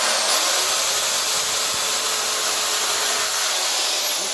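A chainsaw carves details and feathers into a bolted-down wood block for an owl sculpture, its steady high-pitched whine running continuously and loudly without pause.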